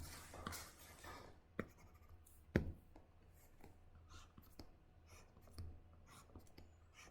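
Eraser rubbing across a lecture board makes faint, scattered scratchy strokes with a few sharper knocks, quiet and intermittent in a still room.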